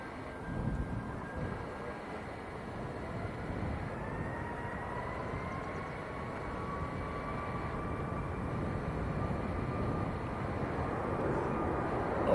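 A Corendon Airlines Boeing 737 MAX on its takeoff roll at Manchester Airport, heard from afar as a broad, rumbling jet roar that slowly builds in loudness, with a faint rising whine and wind buffeting, no voices.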